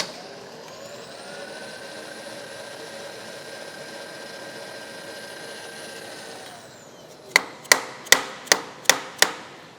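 A steady machine hum gives way to six sharp, evenly spaced taps as a metal workpiece is hammered down into a vertical mill vise, each strike loud and close with a brief ringing decay.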